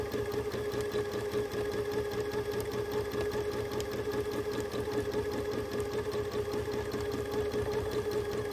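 A sewing machine stitches free motion quilting, a continuous close, rapid needle chatter with an even motor hum throughout.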